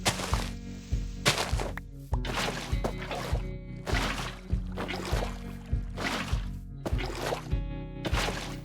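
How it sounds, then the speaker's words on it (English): A hoe tills soil in a farming video game, making a steady series of about a dozen dull, thudding strikes at a regular rhythm, each followed by a short scraping rustle. The strikes play over a faint tonal background. "Okay, another round of hoeing."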